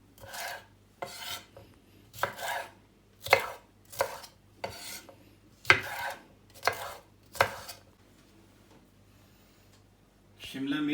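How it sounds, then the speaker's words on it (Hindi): Three green bell peppers being cut into cubes, about nine distinct, evenly spaced knife chops striking a cutting board, close and clear against a quiet low hum. "शिमला मिर्च ग्रीन 3 अदद लिए हैं हमने, इसको भी हम क्यूब्स के फॉर्म में काट लेंगे"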